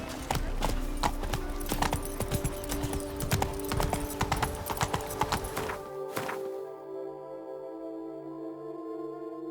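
Roach, the horse in The Witcher 3, gallops with rapid, loud hoofbeats that run for about six seconds, then stop abruptly and leave a quiet, humming game ambience.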